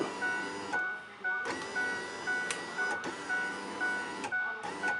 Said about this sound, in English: I'm going to lower the window and raise it.